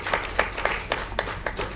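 Scattered, sparse clapping from part of an audience at a product unveiling for an organic biopesticide, with individual hand claps landing irregularly at moderate volume and no voices over them.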